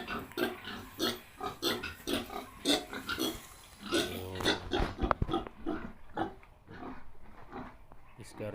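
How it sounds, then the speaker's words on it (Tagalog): Pigs grunting and oinking on a small provincial farm, repeated short snorts in an uneven rhythm with people talking over and between them. "Nag-aalaga ang baboy."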